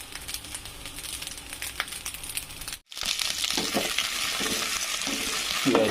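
Food stirred and frying in a pan while making pulihora, a steady crackling sizzle with scraping stir strokes throughout, briefly cut by a gap midway, no talk.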